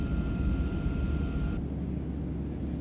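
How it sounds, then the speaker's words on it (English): Steady airplane cabin drone with a low engine rumble and faint high whine, designed as cockpit ambience aboard a spacecraft-style airliner; the hum is continuous and close, shifting slightly darker partway through, with no voices. "we have airplane cabin sound together with an airplane ambience"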